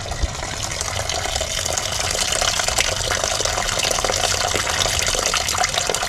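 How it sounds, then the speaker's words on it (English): Old coolant, apparently mixed with oil, drains from a car's worn coolant tank in a steady, loud, close gushing stream that continues unbroken throughout. "it looks like oil draining out of there"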